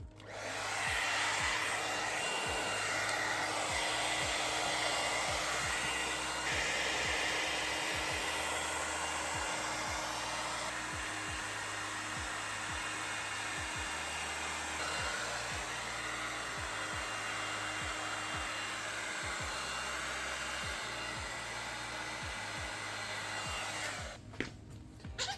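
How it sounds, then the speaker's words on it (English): A hair dryer blows loudly and continuously, its steady whir with a buzzing hum lasting throughout before cutting off at the end. "So now I'll just hit it with a hairdryer and we're good."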